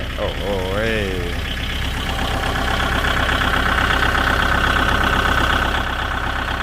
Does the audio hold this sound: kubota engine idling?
yes